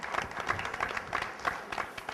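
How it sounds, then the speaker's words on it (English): A short burst of audience applause at a high school talent show, scattered clapping with a crowd murmur, moderately loud and uneven. "Let's give another round of applause for Keandre."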